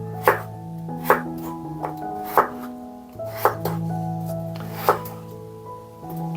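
Knife chopping potatoes on a cutting board, a series of sharp, irregular thunks about once per second, close and distinct, with no talking.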